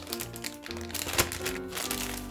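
Dough being slipped into a plastic bag, with a close, steady crinkling of thin plastic over about two seconds and one sharper crackle midway.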